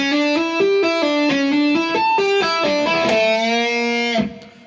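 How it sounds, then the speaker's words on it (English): A distorted electric guitar plays a quick lick slowed down, with hammer-on notes stepping up and down in an even rhythm. The phrase ends on a held, ringing note that then cuts off, with no voices. "We then have this crazy fast lick that slowly sounds like this."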